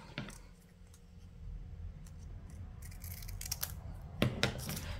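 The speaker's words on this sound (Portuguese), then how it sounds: "Só que em vez de eu cortar a partir daqui, eu vou cortar da dobrinha." Scissors cut through a folded paper sewing pattern, with a few quiet snips and crisp clipping sounds near the end over faint room noise.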